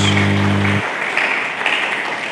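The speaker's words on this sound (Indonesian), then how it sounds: "Mari kita berikan tepuk tangan bagi Yesus." Church congregation clapping for Jesus during a service, a sustained broadband wash of many hands, fairly loud and continuous, with a low organ-like tone fading out early.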